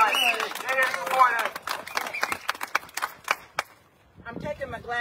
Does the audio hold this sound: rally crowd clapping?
yes